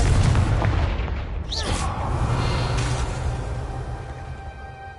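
A Confringo fire spell blasts in the Hogwarts Legacy video game: a loud, booming burst with a whooshing streak, then a rumbling tail that fades slowly, with game voices around it.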